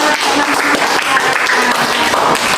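Group 4 is applauded in a classroom, with dense, steady clapping from many hands filling the room at close range for a couple of seconds.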